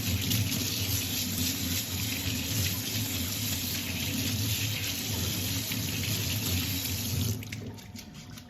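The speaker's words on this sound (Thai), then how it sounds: "เราก็จะมาล้างทำความสะอาดเขานะคะให้สะอาดก่อนค่ะ" Luo han guo fruit being washed under a running kitchen tap, a steady close splash of water into a sink that continues for most of the stretch and eases near the end.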